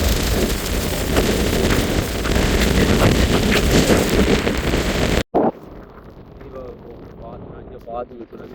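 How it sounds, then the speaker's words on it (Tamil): Loud, blustery coastal wind buffets the microphone in a steady roar, then abruptly drops to a quieter breezy background with faint rustling. "காற்று வீசுது"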